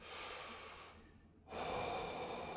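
A horror video game's title screen plays close, airy breathing: one long breath fades out, a short pause follows, then another strong breath rushes in.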